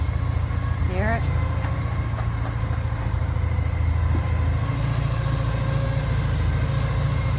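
A Porsche 944 engine idles with a steady low rumble and a thin, sustained whine riding above it, close and continuous, with a brief rising chirp early on and faint voices in the background.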